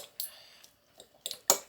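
Two forks scraping and clinking as they shred cooked chicken, a few short metallic taps and scrapes close by, the last one loudest, with quiet gaps between them.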